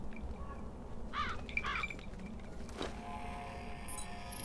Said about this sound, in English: They're just birds.